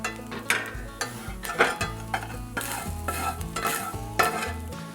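A utensil scrapes and stirs food in a metal pot with a faint sizzle, giving repeated close scrapes and clinks over a few seconds, with no talking.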